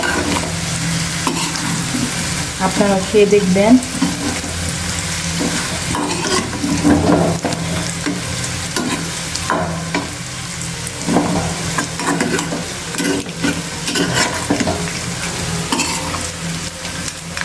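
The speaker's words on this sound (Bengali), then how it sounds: "এদিক দিয়ে পেঁয়াজের সাথে মাছগুলো দিয়ে দিলাম, ভাজা মাছ" Steady frying sizzle fills the pan as fried fish is stirred with onions, with scraping strokes recurring throughout; a brief voice speaks near the start.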